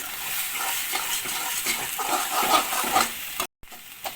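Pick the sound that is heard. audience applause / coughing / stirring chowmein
stirring chowmein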